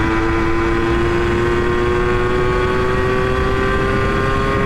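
Yamaha YSR 50 small motorcycle ridden flat out in fifth gear at about 70, a steady high-pitched buzzing engine note under heavy wind rush, close and loud without a break.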